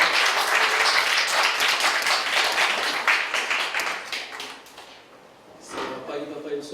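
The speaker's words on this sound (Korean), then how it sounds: "박수를 한번 드려보겠습니다" Sustained applause from a church congregation at a Sunday morning service fills the room loudly, then thins out and fades, and a voice begins speaking as it dies away.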